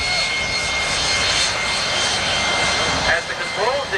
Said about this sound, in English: Ladies and gentlemen, a Russian MiG-15.